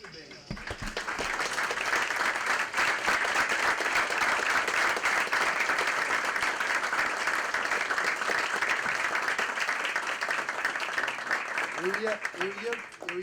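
Audience at a political debate on reforms in Italy and Europe breaking into sustained applause, a thick continuous clapping wash lasting most of the stretch, with a voice speaking briefly before and after it.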